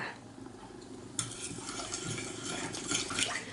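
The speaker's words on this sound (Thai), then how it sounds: "คนให้เกลือและน้ำตาลทรายละลายดีนะคะ" Salt and sugar being stirred into cold water to dissolve, with yeast added, for English muffin dough; soft swishing and a utensil clinking against the bowl, growing busier partway through, with no talking.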